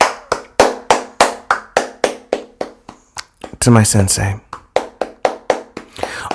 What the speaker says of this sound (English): let's give a big clap